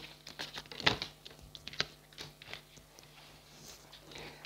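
Tarot cards that slide easily are shuffled by hand close up, giving quick, irregular soft taps and riffling flicks with a few sharper snaps.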